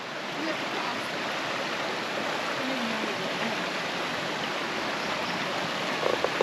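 Creek water flowing at a hiking-trail crossing in Lamington National Park, a steady broadband rushing wash, close and continuous, with no talking.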